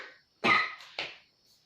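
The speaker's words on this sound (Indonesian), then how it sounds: "mohon maaf kalau kakak batuk ya" A woman coughs twice close to the microphone, a hard loud burst followed a moment later by a shorter second cough, with no talking.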